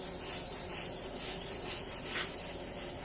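Wet sanding of a sealed concrete countertop with a sanding pad, a close, even rubbing hiss that continues without a break for the whole stretch, with no voices.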